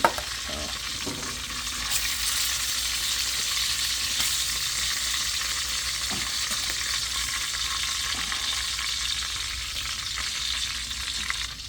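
Food fries in a pan with a loud, steady, close sizzle that holds throughout, with a few stirring knocks near the start.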